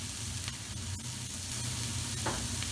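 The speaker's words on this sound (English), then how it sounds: "on a medium heat, we just want to very lightly brown our onions" Onions browning lightly in a pan over medium heat, a steady low sizzle and faint frying crackle running continuously with a few soft stirring scrapes, close but quiet.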